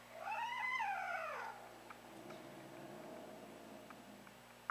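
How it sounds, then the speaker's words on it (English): A very vocal cat lets out a long wavering screech, then a low rumbling growl continues at moderate volume, close by, ending with a sudden loud burst. "he just screeches and screams and growls and sings and cries all the time"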